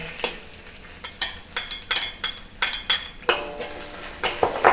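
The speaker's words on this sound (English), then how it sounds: "Then use the remaining oil to saute the garlic and ginger." Garlic and ginger sauté in hot oil in a wok for a pork and pepper stir-fry, a close steady sizzle broken by rhythmic scraping and clinking of a spatula against the pan.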